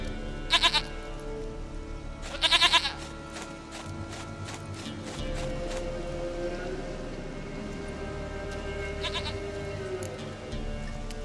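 Goat bleats in The Witcher 3, three short bursts of bleating spaced over several seconds against a steady bed of rain-like ambient noise, with no talking.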